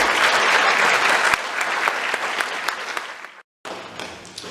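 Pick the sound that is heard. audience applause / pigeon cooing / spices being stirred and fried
audience applause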